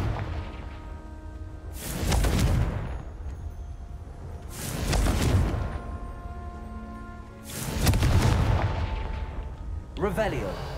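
Three heavy Confringo spell explosions go off in a video game, each a loud booming blast with a whooshing tail, spaced a few seconds apart, followed by a brief whoosh near the end.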